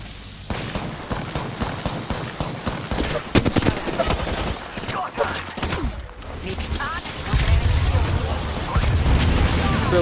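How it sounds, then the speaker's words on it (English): Gunfire in the Apex Legends video game, sharp rapid bursts and single cracks close by mixed with mechanical clicks and rumbling, with voices speaking over the fight. "Getting shot from behind now."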